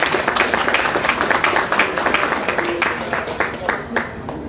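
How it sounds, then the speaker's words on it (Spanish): An audience at a press interview ahead of a Rochy RD concert gives a short burst of applause. The quick, overlapping claps mix with voices talking over them. "Bueno, aplaudimos."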